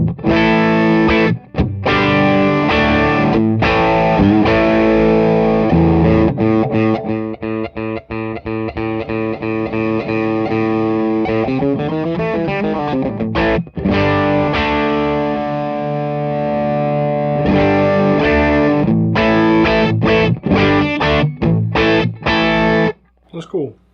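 Electric guitar played through a stereo rig with one output clean to an amp and the other through a distortion pedal, a loud, sustained, thick mix of clean and dirty chords with brief pauses and strummed passages throughout.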